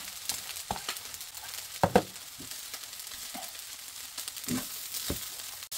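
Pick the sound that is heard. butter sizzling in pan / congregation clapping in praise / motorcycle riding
butter sizzling in pan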